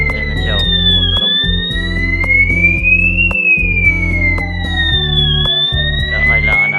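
A smoke detector alarm, one of several fitted on a second floor, sounds loudly during a test, a piercing electronic tone sweeping up and down continuously alongside a pulsing lower beep pattern, with no speech.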